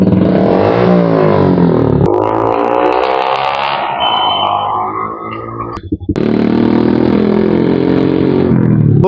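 A Suzuki Gixxer Monotone motorcycle fitted with a newly installed aftermarket exhaust revs loudly and close, its engine note rising and falling through several throttle blips, then dropping briefly before roaring up again.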